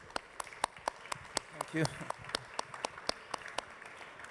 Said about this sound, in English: I would like to ask for an applause for our experts.